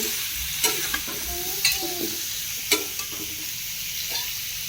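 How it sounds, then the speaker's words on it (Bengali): Potatoes are sautéed in a pan, with a steady sizzle under repeated spatula scrapes and a few distinct knocks at irregular intervals, close up and with no talking. "এটা ভালো করে কষে নিই"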